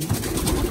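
A racing pigeon coos close by in a loft, a short burst of low, throaty warbling rising and falling under a little background noise.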